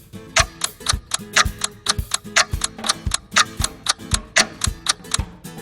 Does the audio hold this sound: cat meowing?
no